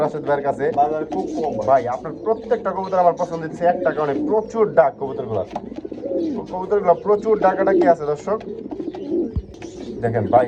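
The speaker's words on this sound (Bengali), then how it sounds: "নরের ডাকটা শুধু খেয়াল করেন ভাই রে ভাই এ তো থামেই না" A male white Beauty pigeon coos in long, nearly unbroken runs of throaty, rolling calls, loud and close, carrying on with barely a pause.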